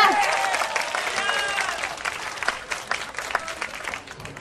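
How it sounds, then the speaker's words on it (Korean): Spectators at a taekkyeon match between two university teams break into applause for the two players, clapping and crowd noise rising under an announcer's voice and tapering off. "두 선수를 위해서 힘찬 박수 부탁드립니다"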